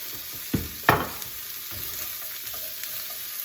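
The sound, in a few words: vegetables stir-frying in a pan on high heat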